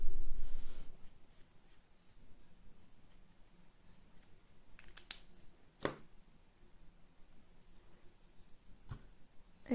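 A pen draws a contour outline, leaving faint scratchy strokes close by with a few sharp clicks and taps scattered through an otherwise quiet stretch.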